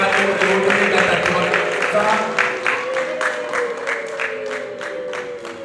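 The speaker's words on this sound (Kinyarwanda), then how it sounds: "mumwakirize amashyi n'impundu byinshi" Applause and ululation from a crowd welcoming performers at a Rwandan concert: loud sustained clapping with high warbling ululation rising above it, easing slightly toward the end as a voice carries over it.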